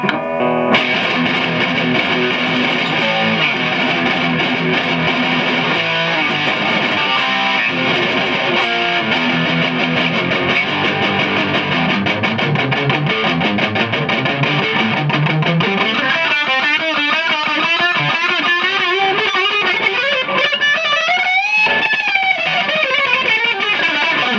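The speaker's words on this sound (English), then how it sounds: "Next up is the mega distortion." A heavily distorted electric guitar through a BOSS MD-2 Mega Distortion pedal plays chugging riffs and sustained chords, then bends and squealing notes, loud and saturated throughout.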